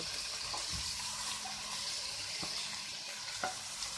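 Mashed banana flower is stirred into a fried spice mix in a pan, giving faint, soft sizzling and a few light scraping strokes at a low level.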